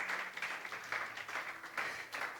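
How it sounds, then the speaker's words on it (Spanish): Faint applause from a church congregation, a few seconds of soft, uneven clapping heard at a distance. "Denle ese fuerte aplauso al Señor Jesús."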